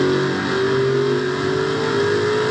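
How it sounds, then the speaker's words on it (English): A race car in a Castrol GTX Cup Series race shifts rapidly through turn one, its engine note droning steadily and rising slightly in pitch, fairly loud and close, with no talk. "Some quick shifting going on there in turn number 1"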